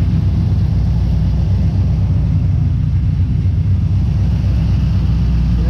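A car engine fitted with Holley Sniper EFI idles steadily, a loud, close, continuous low rumble with a fast even pulse and no change in pitch, with no voices.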